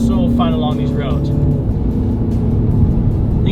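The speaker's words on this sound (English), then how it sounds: "you can actually hear the exhaust pop and crack a little bit" A MINI Clubman ALL4 with a 2-liter four-cylinder engine, driven in sport mode on open roads, gives off a steady, moderately loud engine and exhaust drone that runs throughout, with a voice talking over it.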